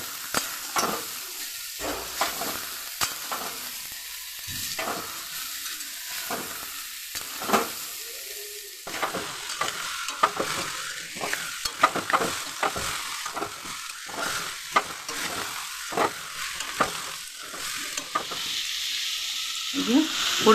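Jackfruit curry with fried goat-fat fritters is stirred in a sizzling pan, a steady close hiss of frying broken by repeated scraping, clattering strokes of the spoon against the pan at an irregular rhythm, with no speech.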